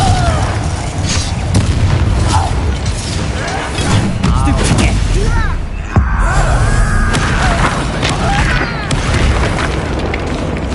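Confringo spell blasts from a Hogwarts Legacy duel go off as repeated loud booms and bursts, mixed with whooshing spell effects and busy combat noise, with a voice talking over the fight.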